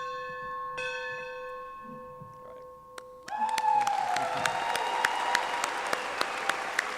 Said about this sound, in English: To commemorate today's graduation, Mr. Jacob Rogers will now ring the bell.